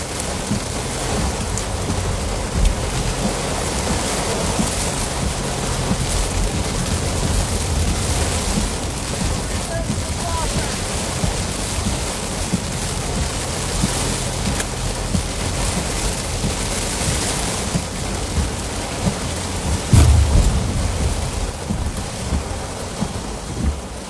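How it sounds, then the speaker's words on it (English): Steady rain pours down throughout, with a deep rumble of thunder rolling in near the end. "I gotta go pick him up now. It's raining."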